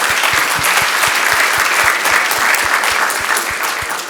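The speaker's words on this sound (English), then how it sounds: "Can we give them a round of applause?" A room full of people gives a loud, continuous round of applause for the IT team at a workplace culture event, with dense clapping throughout and a steady low thumping pulse underneath.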